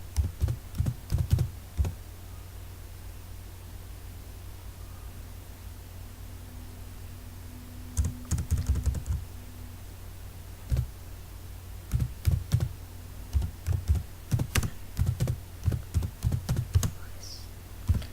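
Typing on a computer keyboard while creating a simple text file, heard as bursts of clicky keystrokes in quick runs separated by pauses, close and fairly clear over a steady low hum.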